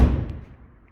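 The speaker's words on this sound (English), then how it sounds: "You can tell a lot by the door shut sound." A Citroen C3 car door shuts with a single dull thud right at the start, its low, slightly hollow body ringing out quickly into near silence.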